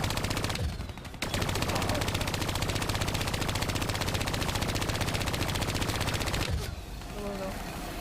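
Sustained automatic gunfire rattles loudly as cubes are shot in Call of Duty Black Ops 3, with rapid continuous bursts broken by brief pauses near the start and end.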